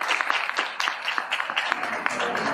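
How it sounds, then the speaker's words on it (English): A small audience at a back-to-school event claps, a loose patter of individual hand claps with sharp uneven hits, fairly close and moderately loud. "Now let's give her a hand clap."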